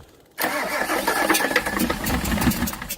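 An IDI 7.3 diesel engine starts suddenly after a moment of quiet, bursting into a loud, rough, clattering rumble that carries on steadily close by.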